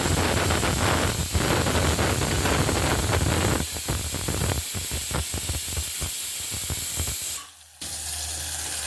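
Spices, tomato and chilli hit hot oil while dal is tempered in a home kitchen, giving a loud, steady hiss of sizzling. It cuts off briefly near the end before resuming.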